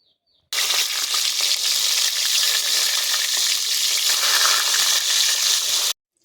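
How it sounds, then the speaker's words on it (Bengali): Eggplant slices fry in a pan for a Bengali dish, a loud, steady, close sizzle that starts abruptly and runs unbroken for several seconds before cutting off, with no talking. "যে কটা আছে সে কটাও ভেজে নেব।"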